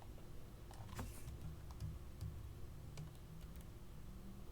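Computer keyboard typing at a desk while entering an IPsec command on VMware NSX Edge gateways: quiet, irregular key clicks in short bursts, fairly close, over a low steady background hum.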